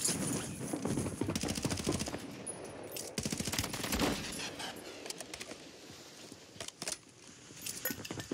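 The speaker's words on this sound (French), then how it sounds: "Je vois que ça tire dans cette zone, ça tire aussi là-bas" Gunfire in a video game: scattered, rapid bursts of shots, some in quick volleys and others isolated, at moderate distance over a busy background.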